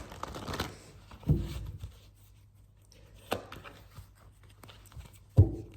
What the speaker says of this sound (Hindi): Second, let me shuffle one more time.